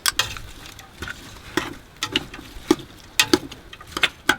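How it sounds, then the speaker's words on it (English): Minced garlic being stirred in a deglazed pan, a run of quick, close scrapes and light sizzling clicks in irregular rhythm, heard alone without talk. "Give all that a little stir."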